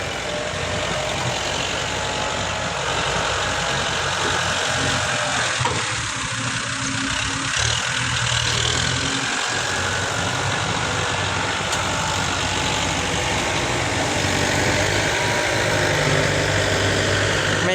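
A steady, low tractor engine drones without a break throughout, rumbling and vibrating at a constant idle with no rise in revs.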